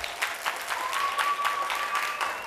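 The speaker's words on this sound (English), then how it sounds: "Round of applause for Abby." Audience at a family science night event applauding a child volunteer, a brief burst of steady clapping from a room of people, moderately loud with a faint tonal whine running underneath.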